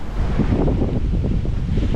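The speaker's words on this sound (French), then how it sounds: "Le vent s'est un petit peu levé." Steady wind roars across the microphone aboard a sailboat rounding Cap Finistère, a dense continuous rumble with low gusty buffeting and faint water wash beneath, loud and unbroken throughout.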